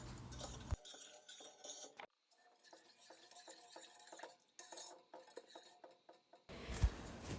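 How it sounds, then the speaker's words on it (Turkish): A spoon stirs sugar syrup in a pot on the stove with soft, regular clinks and scrapes against the metal, faint and close, with brief louder clatter at the start and end. "Şeker eriyene kadar karıştıralım."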